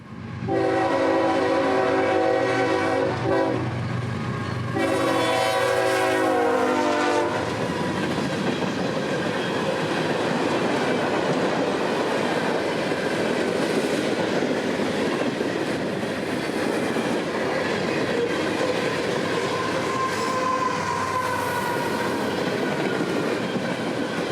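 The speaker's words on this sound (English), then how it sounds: "As 442's last few cars flew past us on the main" CSX freight train 442 passing on the main line of the old RF&P route, opening with a loud sustained horn blast, then a roaring rush of wheels and rattling cars sweeping close by without a break.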